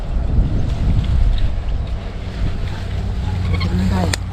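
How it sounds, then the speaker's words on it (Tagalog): Steady outdoor wind buffets the microphone during a fishing trip by the water, a constant broad rush throughout with a few faint higher tones near the end; no talk. "Ba't ngayon humangin na?"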